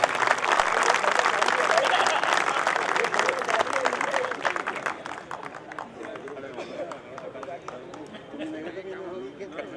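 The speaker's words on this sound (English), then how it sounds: "Please give a big round of applause." Applause from an audience at a university hall function, loud and dense at first, then thinning out and fading as a voice begins speaking over the tail.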